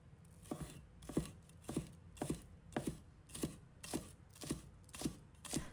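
Knife chopping scallion whites finely on a cutting board, about eight steady, evenly spaced chops, close and crisp with no talk.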